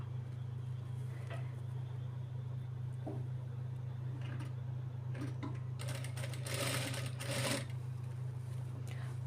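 A sewing machine hums steadily while stitching along a fold of a child's lehenga blouse, with brief clicking and rattling bursts near the end; a voice speaks faintly underneath.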